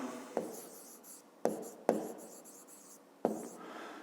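A pen scratches across paper as a math solution is written out by hand, with four distinct quick strokes, each starting sharply and trailing off into softer scribbling, close and quiet with no talk.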